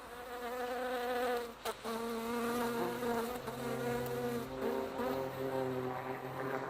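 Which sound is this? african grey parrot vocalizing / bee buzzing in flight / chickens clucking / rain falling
bee buzzing in flight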